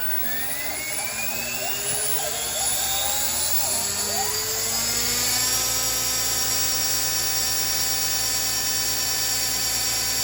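An OMP Hobby M4 RC helicopter on a fully charged 6S battery spools up at 90% throttle, a steady loud whine rising in pitch with a constant motor drone and rotor hum, no talking.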